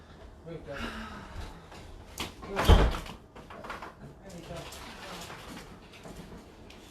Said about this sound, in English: Let me go open the door for him.